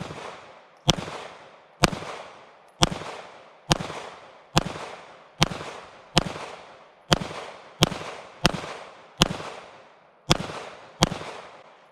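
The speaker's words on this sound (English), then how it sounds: "And we're shooting full power, 124 grain ammo. This is Remington ammo in here." Shots from a Sig Sauer P320 Compact pistol firing full-power Remington 124 grain ammunition outdoors in bright sun, about a dozen sharp, loud cracks at a steady pace of roughly one per second, each followed by a brief echoing decay.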